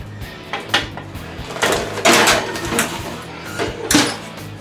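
Metal baking trays clatter and knock as they are slid into an oven, giving several sharp clanks and scrapes close by, with a louder burst in the middle of the sequence.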